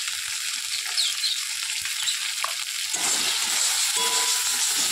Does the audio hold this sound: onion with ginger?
yes